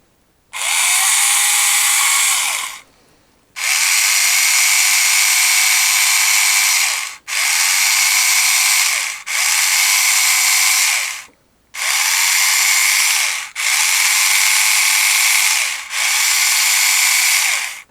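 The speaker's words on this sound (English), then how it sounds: "So let's get drilling and see if I can actually drill this hole neatly" Power drill boring a hole into the end of a Transformers G1 Kickback toy antenna: loud, steady high-pitched whine in seven bursts of about one to four seconds each, separated by brief stops, with no talking.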